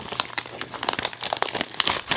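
Crinkling plastic packaging of a Honl 1/4 inch speed grid being handled and opened, with close, irregular bursts of crackle and rustle throughout and no talk.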